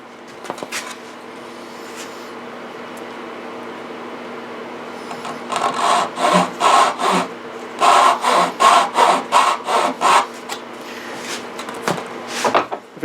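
Hand sawing the wooden corners of a jewelry box, a few tentative strokes and then a steady run of loud back-and-forth rasping saw strokes, close up, tapering off at the end.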